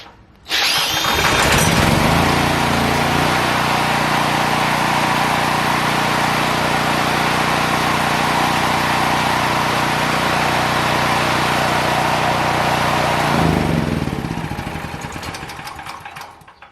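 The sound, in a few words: generator engine running after cordless drill starter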